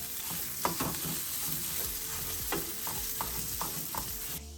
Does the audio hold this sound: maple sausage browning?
yes